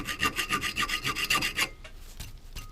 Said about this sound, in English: this would be done with this file if you're going to file these by hand